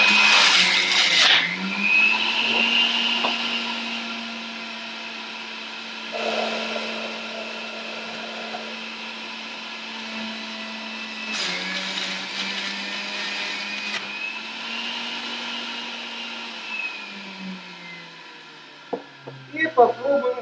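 An electric juicer runs steadily for about twenty seconds, pressing apples into a cucumber and apple juice blend, with a sustained motor whine and grinding surges as fruit is fed in, loud and close, ending in a few clatters.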